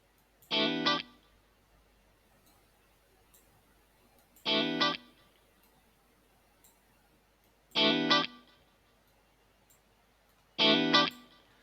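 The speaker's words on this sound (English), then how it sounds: "I'm going to add some delay, and I'm going to add a good bit of reverb onto it." Four short, loud synth or instrument bursts on a Cubase track, processed with delay, reverb and panning, repeat at even intervals of about three and a half seconds, with quiet effect tails between them.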